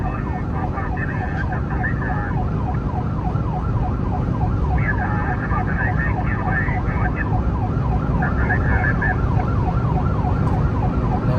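Siren of a volunteer rescue vehicle heading to an overturned ten-wheel stone truck in Pluak Daeng, Thailand, wailing steadily up and down in a continuous cycle over loud road and engine rumble.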